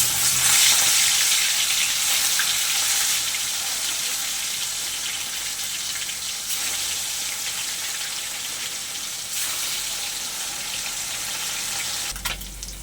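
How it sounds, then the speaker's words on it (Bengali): Rohu fish pieces fry in hot mustard oil in a pan, a loud, steady, close sizzle that hisses continuously with a few clicks and no talk. "তেলটা আমার গরম হয়ে গেছে, এবারে মাছগুলো ভেজে নেব।"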